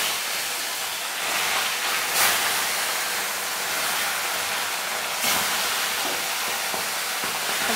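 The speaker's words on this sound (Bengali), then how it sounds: "তেল গরম হয়ে গেছে, আমি মাছগুলোকে এবার দিয়ে দিলাম।" Fish pieces fry in hot mustard oil in a kadai, a loud continuous hissing sizzle with brief surges where the oil spits, steady throughout with no talking.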